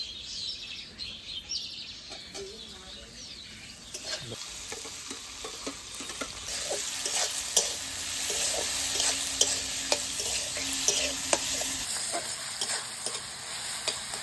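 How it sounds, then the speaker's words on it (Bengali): Chopped tomatoes and onion paste frying in a pan for a fish curry, a steady bright sizzle with repeated scraping clicks of stirring that grows louder midway, faint bird chirps in the background. "এবার এই কাটা টমেটোগুলো কুচোনো আর বাটা পেঁয়াজটা দিয়ে দেবো"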